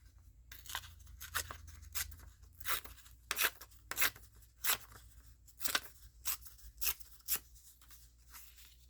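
Scissors cut paper flowers for a spring collage, a steady run of crisp, close snips and rustles repeating about every half second over a low background hum, with no voices.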